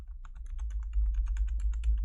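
Rapid computer keyboard clicking during a livestream, a dense run of sharp keystrokes over a low steady hum, close and fairly loud with no talking.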